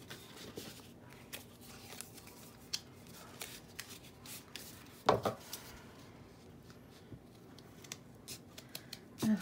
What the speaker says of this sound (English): I'm gonna cut these down a little bit shorter since they're toward the middle.